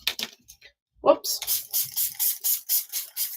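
Several quick bursts from a spray bottle hiss in close succession while cleaning a craft table surface, loud and near, following a brief thump and a voice.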